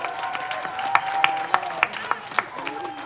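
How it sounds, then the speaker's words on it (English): Audience applause for high school drama monologue contestants, a few distinct claps standing out over a soft, steady crowd wash, with faint talk underneath. "A round of applause to all of our wonderful contestants for participating."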